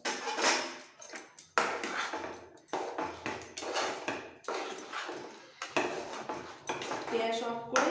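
A spoon or spatula scrapes and clinks against a metal pan as fried dry fruits are stirred into a ghee-roasted semolina laddu mixture, with repeated close, uneven strokes and no voices.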